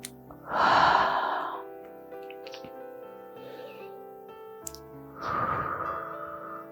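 Slow, deep breaths during a heart-opening yoga pose: two long, audible exhales a few seconds apart, close to the mic, with soft background music and no talking.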